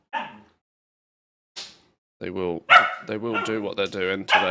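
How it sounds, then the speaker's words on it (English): Dogs giving a few quick yips and barks at the start, then a person talking over the top with only faint canine sounds left. "I apologise for the dogs barking in the background."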